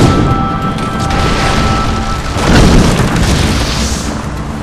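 A workshop is blown up in the video game Assassin's Creed: Brotherhood, a heavy, loud boom with crashing debris that rumbles on for several seconds and swells again midway.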